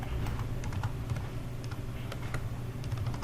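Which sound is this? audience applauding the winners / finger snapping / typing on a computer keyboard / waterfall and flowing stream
typing on a computer keyboard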